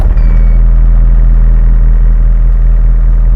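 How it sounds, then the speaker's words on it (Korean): A used excavator, estimated at about 14,000 hours, idles nearby with a loud, steady diesel rumble. The deep, even throb holds without revving and has no talk over it. "엔진 상태는 아주 좋다, 필링이 좋다, 진동도 많이 없고 엔진 소리도 좋은 것 같습니다"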